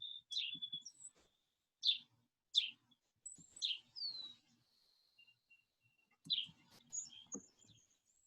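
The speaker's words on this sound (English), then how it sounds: "I hope you enjoyed the lovely backyard and birds." Backyard birds chirp and tweet in short, bright bursts with quiet gaps between phrases, several calls spread over a few seconds, no voices present.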